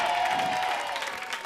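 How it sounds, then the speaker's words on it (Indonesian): Audience applause at an Indonesian variety show performance, a steady dense patter of clapping with a faint sustained tone underneath, lasting about a second and a half. "Tepuk tangannya."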